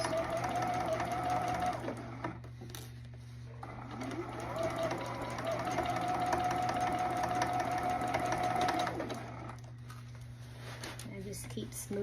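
Sewing machine stitching the seams of a denim jacket at a 5/8 inch seam allowance, whirring steadily with short pauses and a long continuous run in the middle, under a person talking.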